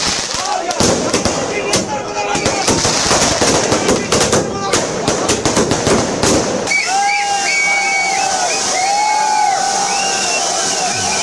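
Fireworks burst in rapid, crackling volleys at a crowded political celebration in Chennai, then give way to shrill whistling rockets over steady crowd noise and voices, loud and close throughout.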